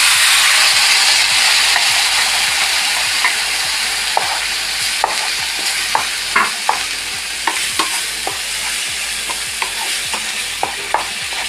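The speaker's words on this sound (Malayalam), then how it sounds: "വറുത്ത നാളികേരം. അത് ഇതിലൊഴിക്കുന്നു." Ground roasted coconut paste fries in a pan for an okra curry, giving a steady loud sizzle throughout while a spoon scrapes and stirs in repeated sharp clinks and knocks.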